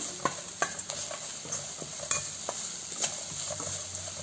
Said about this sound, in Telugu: ఇదంతా ఒక 2-3 మినిట్స్ వరకు నేను ఫ్రై చేస్తున్నాను.